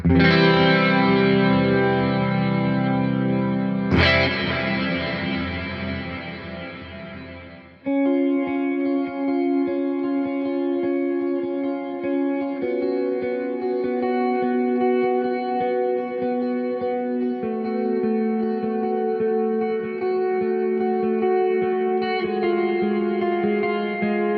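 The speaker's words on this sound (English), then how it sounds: "This is a clean patch with a lot of delay and reverb, very big sounding." A clean electric guitar through a Mooer Prime M2 rings out in long sustained chords, thick with delay and reverb, one sharp strum re-struck midway, the notes trailing and overlapping.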